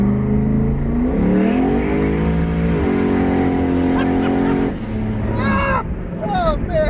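A 1000 hp turbocharged Trans Am accelerates hard at half throttle, its loud engine note climbing in pitch through gears with brief shift breaks, heard close from inside the car, with voices talking over it.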